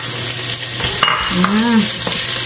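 Onion and ginger sizzle and hiss in a hot pan while being stirred, a bright continuous frying crackle with a few scraping utensil strokes, up close and without talk.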